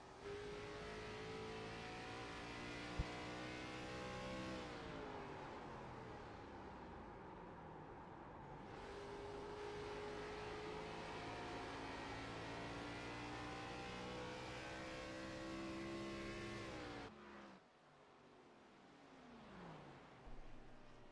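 A race car in the iRacing sim game on the Iowa oval, its engine droning loud and steady with rising and falling pitch as it shifts and laps, then easing off with the clutch near the end.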